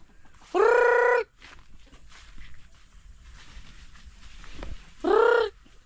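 A rooster crows twice, loud and clear, with a long gap of faint background noise between the calls.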